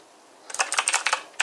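Rapid keystrokes on a Havit HV-KB378L RGB backlit mechanical keyboard with a metal body, about a dozen crisp clicks in an uneven burst after a quiet start, close and fairly loud with no talking.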